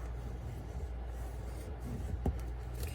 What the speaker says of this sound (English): anytime you've got a score, it's good to burnish, and the bone folder is great for that